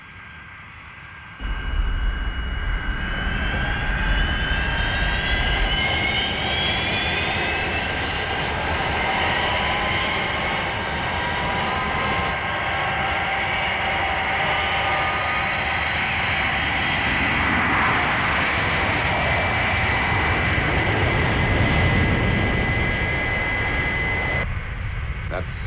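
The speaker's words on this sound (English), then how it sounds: "That's certainly some aircraft." The Fireflash airliner from Thunderbirds takes off with a loud, continuous jet roar that swells and holds throughout, mixed with rising engine whines.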